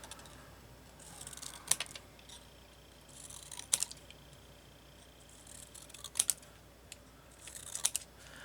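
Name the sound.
scissors cutting 1-inch Graphic 45 paper strips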